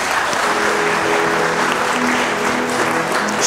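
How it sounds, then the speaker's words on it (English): Church congregation clapping together, a dense, loud, sustained wash of applause from a full room with faint voices underneath. "Clap for Jesus."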